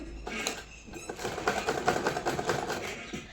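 Sewing machine stitching the pocket onto a frock suit, a close, fast rattling needle run in quick bursts that builds and then tapers off near the end.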